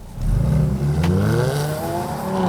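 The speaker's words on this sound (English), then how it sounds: "you fire the engine and a spectacular set of aural fireworks begin" A 2017 Jaguar F-Type convertible's engine revs up close and loud, its pitch climbing in one sustained, rising sweep after a brief quiet start.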